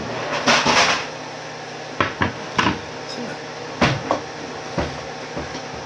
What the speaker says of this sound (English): let's get my cutting board out here